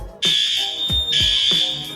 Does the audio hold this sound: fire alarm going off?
yes